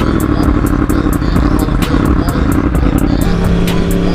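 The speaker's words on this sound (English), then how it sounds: "this exhaust sounds so sweet. It starts to pop once it hits like down to the lower RPM" A 2020 Yamaha R1 with an Austin Racing GP1R exhaust runs loud and close, its rough engine rumble carrying steady rapid clatter and regular ticking pulses throughout.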